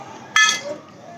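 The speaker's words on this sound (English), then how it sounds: "I'm taking this cotton handkerchief and a few ice cubes" Brief bright clink of a few ice cubes knocking together as they are placed in a cotton handkerchief, one quick close burst in a quiet room.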